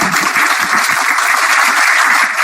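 Students in a lecture class break into loud applause, a close, dense patter of many hands clapping at once that stays steady and energetic for the whole stretch, with no voices over it.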